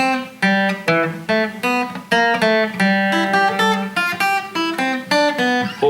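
Electric or acoustic guitar repeating a section of an intermediate practice piece, picked single notes and short chords in an even rhythm, close and clear with no talking.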